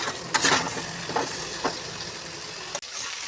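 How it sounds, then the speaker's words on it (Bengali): Chicken and potato pieces fry in a pan for a home-style chicken and potato dish, a steady close sizzle broken by several scraping stirs of a spatula, with no talking. "পুরো মিক্সটাকে আপনারা এখন ভালোভাবে ভেজে নেবেন"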